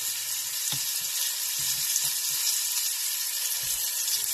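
Beef pieces browning in a hot pan for stew give a steady, bright sizzle throughout, with a few faint low knocks and scrapes from the pan now and then.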